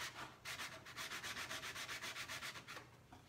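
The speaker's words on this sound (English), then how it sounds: "now I'm going to go over it with a smoother sanding block" A smoother sanding block rubs back and forth over a Kwik Wood furniture repair, a close, steady rhythmic scraping of about a dozen quick strokes before slowing to a stop.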